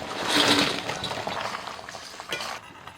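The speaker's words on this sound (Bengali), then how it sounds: "গ্রেভিটা ফুটে গেছে এবার আমি ভাজা চিকেনগুলো দিয়ে দিচ্ছি" Boiling gravy bubbles as pieces of fried chicken are added, with a close splashing pour at the start, then softer simmering bubbles that fade toward the end.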